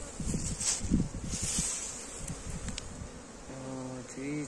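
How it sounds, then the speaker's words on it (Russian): Steady buzzing of many honeybees flying around an apiary in November, a continuous drone with brief louder passes, and a short tonal hum near the end. "Вот так летают пчелы."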